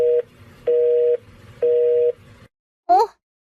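Unanswered phone call: three evenly spaced, steady tones sound alone, each lasting about half a second, followed by a short rising electronic blip.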